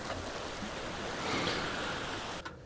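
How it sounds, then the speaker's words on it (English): Strong ocean surf rushes in a steady, dense wash that swells slightly near the middle, then cuts off abruptly at the end, with no voices over it. "Strong waves. Here's some ocean."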